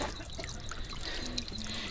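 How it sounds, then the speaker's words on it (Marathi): Water trickles and pours steadily into a bottle from a mountain stream on the Kalsubai trail during a monsoon night trek, a close, continuous splashing stream with faint rushing water behind. "इथे आपण बॉटल भरूया"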